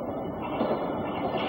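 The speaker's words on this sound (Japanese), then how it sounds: "あの電車がねもう来るから" A Tokyo subway train arrives at Suitengumae station, a continuous low rumble and rush of wheels filling the platform at moderate, fairly distant level without clear talk.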